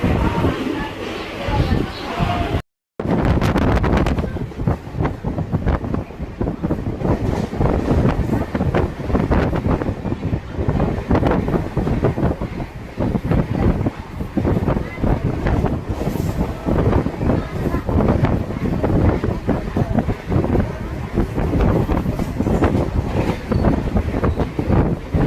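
Inside a moving local commuter train on a Sunday morning, a constant loud rumble and wind roar fill the carriage with rhythmic rattling, broken by a brief dropout near the start.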